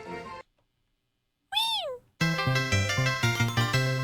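A person's voice imitating the Pokemon Foongus comes out as a cat-like meow: a short rising-then-falling mewing cry, alone after a brief pause, followed by loud music.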